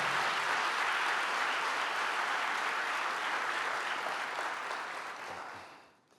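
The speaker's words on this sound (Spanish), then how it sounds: "Aplaude al Rey de Reyes." A church congregation applauds during a sermon, giving a sustained wash of many hands clapping that holds steady and then fades out quickly near the end.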